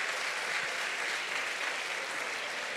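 Audience applause at a live talk by Pilar Sordo, a steady broadband clapping wash lasting the whole stretch at moderate level, with no voices over it.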